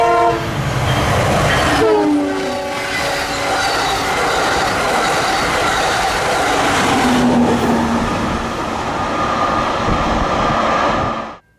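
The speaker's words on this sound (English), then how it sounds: "It was the Blue Water with a duo of ugly SC-44s, but at least the horn was normal this time." Amtrak Blue Water passenger train led by two SC-44 locomotives sounds a loud, steady horn chord that holds for several seconds, then rumbles past with rail noise until it fades at the end.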